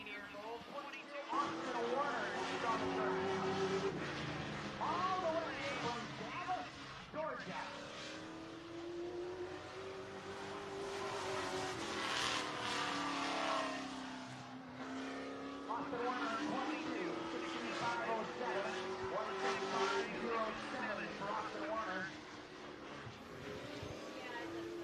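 Race truck on a qualifying lap at Grundy County Speedway, its engine drone rising and falling steadily through the lap, loud and continuous beneath an announcer's ongoing commentary.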